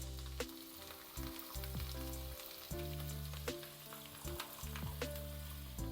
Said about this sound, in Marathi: गॅस परत चालू करूया आपण आता लसूण आपल्याला मस्तपैकी असा ब्राऊन करायचा आहे